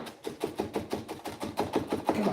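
A knife chopping cilantro on a cutting board in fast, steady strokes, a dense run of close, even knocks with no pause between them.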